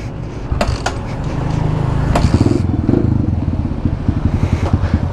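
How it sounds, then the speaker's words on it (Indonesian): A trail bike motorcycle rumbles and revs close by as it rides along a road, its engine building to a steady drone with rattles and a few sharp knocks. "That's what I called a trail bike"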